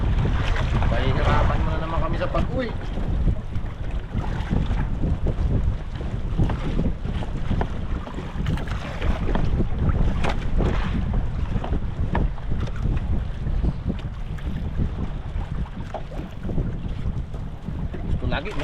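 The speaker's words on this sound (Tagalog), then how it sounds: "Sobrang lakas ng hangin, no?" Strong wind at sea batters a small boat near an island, a loud continuous roar of gusts and microphone buffeting with water and waves churning underneath.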